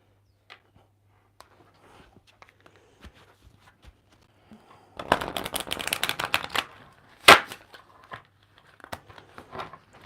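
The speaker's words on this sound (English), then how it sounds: "I haven't shuffled these decks for ages." Tarot card decks being shuffled in a quiet room, with scattered light riffles and handling sounds leading into a dense, loud burst of shuffling in the middle and a sharp slap near the end.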